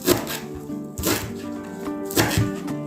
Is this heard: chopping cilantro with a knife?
yes